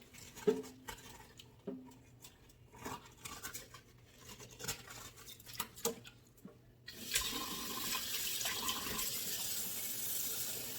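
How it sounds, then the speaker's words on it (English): Cold tap water runs steadily inside a thawing turkey being cleaned for a Thanksgiving dinner, a close, broad hiss that starts partway in after some scattered handling clatter and keeps going to the end. "Running cold water inside."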